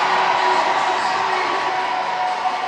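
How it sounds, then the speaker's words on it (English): A baseball stadium crowd at a Savannah Bananas game sends up a loud, sustained roar of cheering, dense and unbroken throughout. "The crowd roars"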